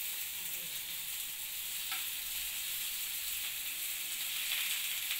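Fish tawa-frying in a little oil over a low flame, a soft, steady sizzle that stays even and fairly quiet, with a faint scrape or two of stirring.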